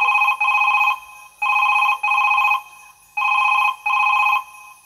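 Telephone ringing in a live Bengali jatra stage play: a loud electronic ring sounding in three paired bursts, each burst a steady buzzing trill, evenly spaced with short silences between, no voices over it.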